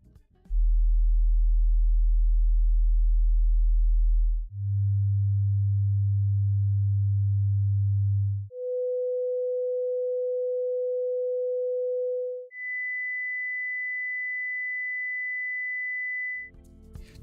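Four steady sine wave test tones play one after another, about four seconds each, stepping from a deep low hum through a slightly higher one to a mid pitch and then a high whistle, clean and loud with nothing else.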